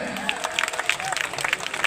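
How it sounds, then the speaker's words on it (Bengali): Audience at a Bangladeshi comedy stage event breaks into applause, a brisk scattered clapping with a few sharper claps standing out over a low crowd murmur, lasting under two seconds. "একটু জোরে হাততালি হয়ে যাক"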